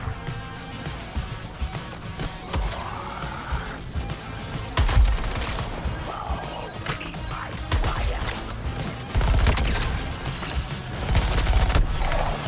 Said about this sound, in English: A lot of shots coming in from somewhere.